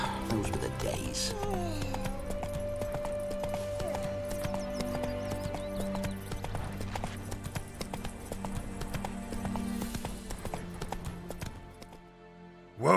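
Geralt's horse Roach in The Witcher 3 trots with a steady clip-clop of hooves on ground and a whinny early on, under spoken dialogue and background game ambience.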